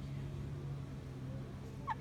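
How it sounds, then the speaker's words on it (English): A bird following people around and begging for food, most likely a turkey, gives a low continuous gobbling chatter with a brief higher call near the end, close to the listener amid outdoor background noise. "this bird wants some food and it's following us around"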